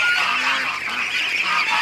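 A dense flock of ducks crowding together gives a continuous loud chorus of overlapping quacks and honks. The calls are close and steady throughout, with no talking over them.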